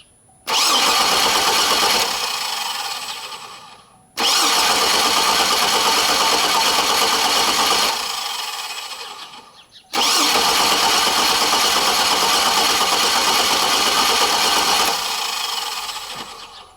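A 2006 Chevrolet Trailblazer engine with a hard-starting, fuel pump check valve fault starts three times in a row. Each loud, close run roars steadily for several seconds, then dies away before the next start.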